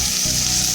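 Onion, ginger, garlic and green chilli sizzle steadily in hot oil in a pan, a close, continuous frying hiss with no voices over it.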